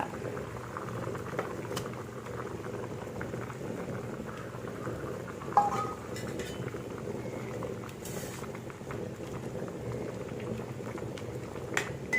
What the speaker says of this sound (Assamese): আমি এতিয়া এইখিনি অলপ উতলিবলৈ দিব, অলপ ঢাকি দিব, উতলিবলৈ দিছোঁ।